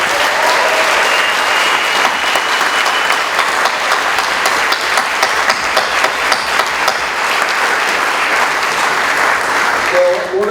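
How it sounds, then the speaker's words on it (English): Sustained audience applause for award winners and honorees at a film festival ceremony, dense and loud for about ten seconds before a voice returns at the end. "A stirring round of applause for them all"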